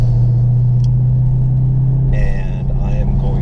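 A 2015 Dodge Challenger police car's V8 engine cruising in third gear at low RPM, a loud, steady low rumble throughout, with someone talking over it partway.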